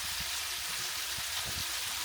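A batch of chicken fries in hot oil, giving a steady, soft, hissing sizzle throughout.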